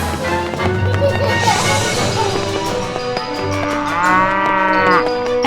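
Recorded cow moos play during a Playmobil toy cow race. A loud, drawn-out moo comes near the end over busy toy-play noise and music-like tones, and there may be a fainter lowing earlier.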